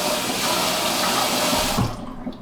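Water pours steadily into a bowl of protein waffle mix, making a loud, continuous splashing rush that stops abruptly near the end.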